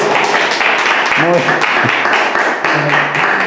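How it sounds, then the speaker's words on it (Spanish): A church congregation in a new temple applauds in a dense, steady wash of clapping while a voice speaks over it. "vamos a dar un aplauso a Dios"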